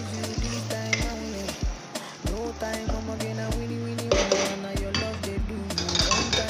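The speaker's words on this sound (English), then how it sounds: "And I'll mix again and I'll allow it to fry even more" A spoon clanks and scrapes against a pot while Miyan Taushe sauce fries, with steady sizzling underneath and repeated close metallic knocks in an uneven stirring rhythm.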